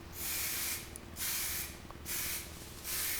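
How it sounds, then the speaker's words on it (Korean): Spray paint hisses in three long bursts from an aerosol held well back from a car's A-pillar, with short pauses between each pass and no talking. "멀리서 이렇게 흩날리듯이 뿌리셔야 돼요"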